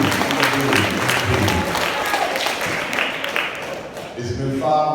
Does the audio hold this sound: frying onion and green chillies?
no